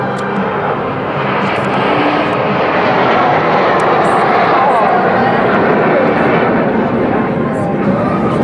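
Snowbirds aerobatic team aircraft flying overhead in close formation, a loud, steady propeller-engine drone that swells slightly in the middle and holds for the whole stretch, with people talking faintly beneath it.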